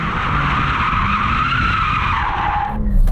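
A BMW M4 launches hard with its tyres spinning, giving a loud, sustained squeal over engine noise for almost three seconds before it cuts off into a lower rumble, close by, with no talking.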